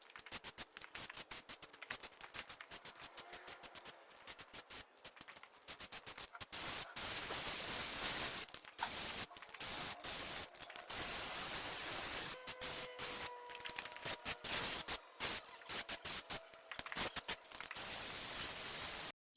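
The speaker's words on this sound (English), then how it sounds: "Then I'm going to put 2 layers of the filler primer on." Spray can laying filler primer onto a textured car grille for a T5–T6.1 van: long, continuous, fairly faint hissing broken by many brief gaps, close by with no talk.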